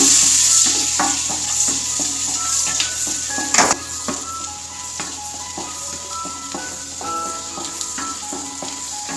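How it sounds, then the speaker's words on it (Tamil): Steady sizzling of onions frying in a pan, with scattered clicks and scrapes of stirring throughout; no speech. "வெங்காயம் நல்லா வதங்கணும்"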